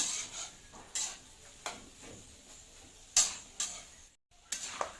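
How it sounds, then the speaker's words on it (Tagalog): Peanuts and garlic stirred in a frying pan, with a spatula scraping and clinking against the metal at irregular intervals over a soft, steady sizzle. The sound is close and nobody talks. "At ituloy lang ulit ang paghalo ng mani."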